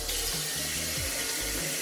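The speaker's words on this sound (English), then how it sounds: "I'll rinse it off with some room temperature water" Room-temperature tap water running into a sink while a face is rinsed, a continuous close splashing stream with small shifts in the flow, no voices.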